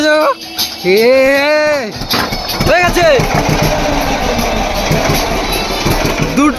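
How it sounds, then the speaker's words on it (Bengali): A boat's engine starts and settles into a low, steady rumble on a river trip in the Sundarbans, running under loud nearby voices talking over it. "এখন আমাদের ইঞ্জিন স্টার্ট দেওয়া হচ্ছে"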